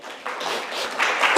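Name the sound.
congregation applause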